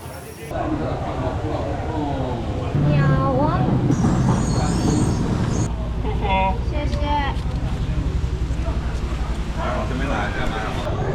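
A small tourist train in Wulai, Taiwan rumbles and clatters steadily along with squealing wheels, while people talk nearby over the running noise.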